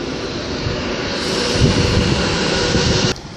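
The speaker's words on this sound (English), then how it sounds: "the 2038 delayed Virgin trains Pennine service should be departing now" A Virgin Trains Pennine service pulls out of Wigan North Western station at night, a loud steady roar and rumble close by that holds evenly and then drops away abruptly near the end.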